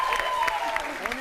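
Audience applause at a Macedonian song contest final in Strumica, a dense wash of clapping over a sustained musical tone, moderately loud and steady for about a second.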